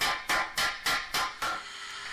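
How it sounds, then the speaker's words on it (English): A hammer strikes a chrome part from a 70-year-old Allard car in five quick, evenly spaced metallic taps, each ringing briefly, close and clear, with no speech. "The hammer blows are always slightly to the side, and there's always constant checking."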